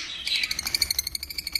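Lovebird chicks in a covered nest of a high-mutation breeding pair chirp in a steady, rapid series of thin, high peeps, close and fairly soft, with no talking.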